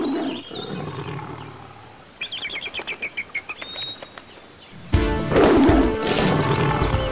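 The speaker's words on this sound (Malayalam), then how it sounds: "ഒരു കടുവ" A tiger roars in a Malayalam cartoon folk story set in a forest, with a burst of bird chirps and fluttering before a loud, close roar near the end.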